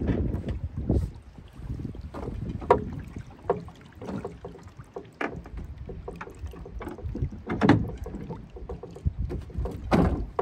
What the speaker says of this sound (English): this works pretty well just for standing rowing